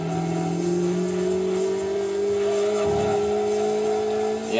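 A Citroën Saxo in Gran Turismo 2 holds a loud, sustained engine drone whose pitch climbs steadily, with a brief dip around a gear change and tire noise underneath.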